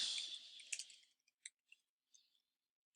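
A computer mouse gives a few faint, sharp clicks spaced about a second apart, following a brief burst of soft hissing noise in a quiet room.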